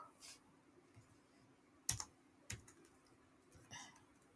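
Sparse, faint clicks and taps on a computer keyboard, a few isolated keystrokes with pauses between them, in a quiet room.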